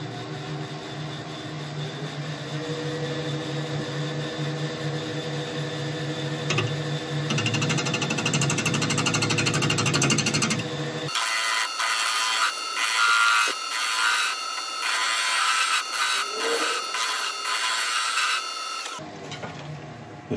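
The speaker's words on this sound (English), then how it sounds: "I'm just gonna be doing some very, very light scrape cuts, like shear cuts across until we get rid of it." Light scraping shear cuts on wood spinning on a lathe, a steady whirring hum that shifts into a brighter, harsher scrape for several seconds before easing back, with no voices.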